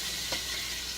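Sliced Conecuh sausage sizzles in hot bacon grease in a home kitchen, a steady broadband crackle with a brief soft knock near the start, close and alone.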